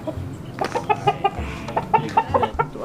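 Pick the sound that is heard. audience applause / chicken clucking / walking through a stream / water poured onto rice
chicken clucking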